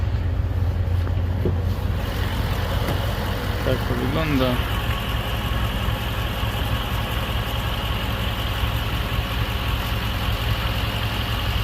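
Supercharged V8 of a Mercedes-Benz SL 55 AMG running steadily throughout, a constant close, loud engine drone with wind noise on the microphone and a person speaking briefly over it.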